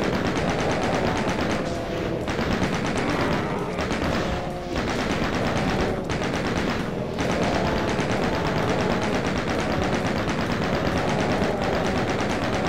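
Sustained rapid gunfire in the classic PC shooter DOOM (Shores of Hell episode), a loud, dense barrage of shots that runs continuously with only brief dips.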